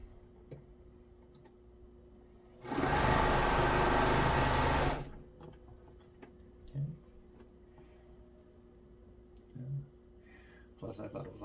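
A sewing machine runs in one steady two-second burst while stitching a quilt, a loud close mechanical whir, followed by quiet handling clicks and the faint start of another run at the end.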